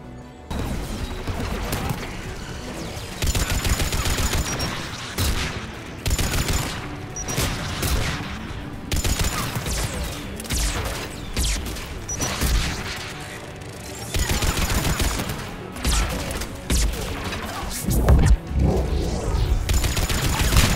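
Mass Effect 3 combat on Rannoch, with gunfire from turret guns and weapons in heavy overlapping bursts alongside mechanical clanks and booms that surge and pause in waves, loud and continuous.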